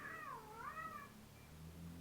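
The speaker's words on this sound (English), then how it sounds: "And my cats are attacking." Cats meow up close, with a single drawn-out, wavering meow in the first second, followed by a low steady hum in the room.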